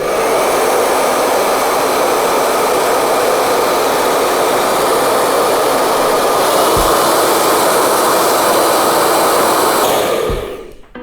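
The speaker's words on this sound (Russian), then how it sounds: "А теперь приготовьте свои ушки для фена Babyliss. Сейчас будет очень громко," A loud Babyliss hair dryer roars continuously up close for about ten seconds, then cuts off abruptly near the end.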